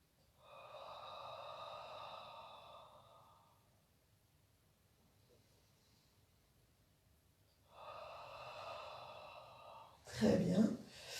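Slow, deep breaths during a Do-In meridian stretching session: two long drawn exhalations several seconds apart, with a quiet pause between, ending in a sharper, louder breath.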